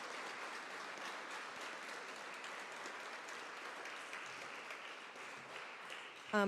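Faint, steady applause from the audience at a local candidates forum, an even spread of clapping held throughout at low level.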